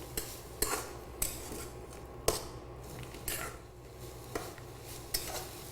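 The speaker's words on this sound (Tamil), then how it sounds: "இப்போ பாருங்கள் இது நல்லா வதங்கிடுது." Beetroot sautéing in a pan, heard mostly as sharp metal spoon scrapes and clinks against the pan at irregular intervals, roughly every second, over a faint low background.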